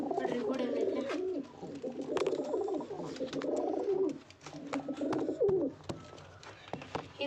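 Pigeons cooing at their coop, with repeated soft, rolling coos in close succession and someone talking intermittently over them.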